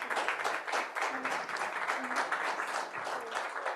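A church congregation claps together in praise, a dense, sustained roll of many hands at moderate distance, steady without pause for the whole stretch.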